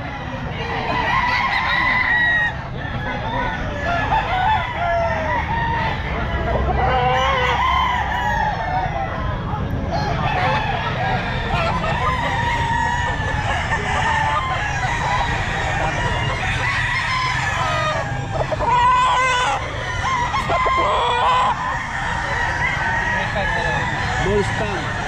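Young gamecock stags and other roosters at a busy Sunday pet market, crowing repeatedly near and far with clucking fowl throughout, someone talking over the birds.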